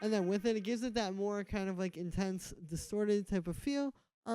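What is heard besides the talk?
No everyday noises stand out.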